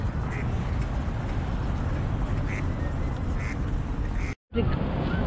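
A few short duck quacks ring out at intervals over steady outdoor background noise, with a brief dropout near the end.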